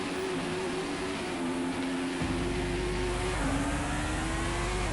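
A Formula 1 car leaves the pits in the F1 2021 game on the Monaco Grand Prix circuit. A steady, high engine whine climbs in pitch, joined partway through by a deeper, louder engine rumble that continues to the end.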